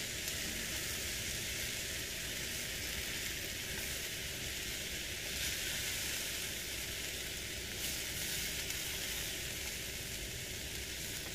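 Continuous loud sizzling of a rice dinner frying in a small, overfilled pan on a van stove, a dense steady crackle with occasional stirring scrapes.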